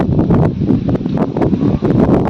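Wind gusts through trees, a loud, steady rushing roar with rustling leaves that surges and eases in waves throughout.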